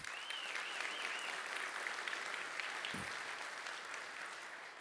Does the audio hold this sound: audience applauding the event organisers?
yes